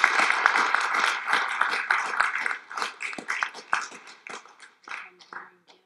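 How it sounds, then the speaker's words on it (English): Applause after a Q&A session at a university event, a modest group clapping at close range, thinning into sparse individual claps before dying away. "can we all just give them a round of applause?"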